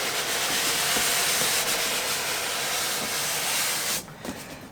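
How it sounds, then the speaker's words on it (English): Steady airy suction and rubbing hiss as a Tweeterhead 1/5 scale Teela statue is pulled from its packing, loud and close, cutting off abruptly near the end. "Some suction action going on there."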